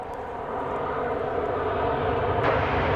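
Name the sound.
incoming airplane at DFW Airport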